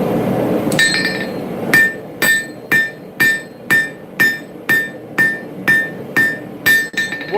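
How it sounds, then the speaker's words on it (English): Hammer on hot metal at a forge, the hammer angled as a fuller to draw out the stock: about eleven sharp, ringing strikes in a steady rhythm, loud and close, with no talk. "I'm angling my hammer slightly, using it as a fuller to draw out the material"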